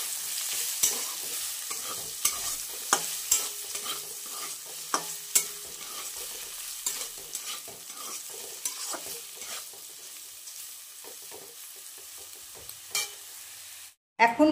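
Sliced potatoes fry quietly in a pan while a utensil stirs and scrapes them, giving irregular clacks over a soft steady sizzle, ending in a brief rustle.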